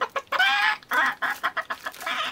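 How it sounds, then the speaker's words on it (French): Chickens clucking, a run of short nasal clucks and a few drawn-out squawks in quick uneven bursts, close and clear with no talk. "Ah bah il y a des poules."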